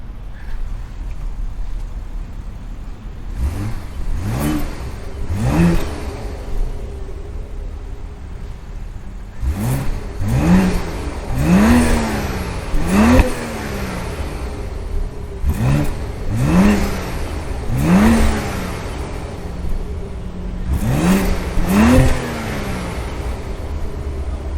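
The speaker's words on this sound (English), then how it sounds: "That sounds so satisfying, that BMW sound." A 2024 BMW X6 xDrive40i engine revs and accelerates in several short rising bursts, each swelling then falling away, heard moderately close over steady background noise.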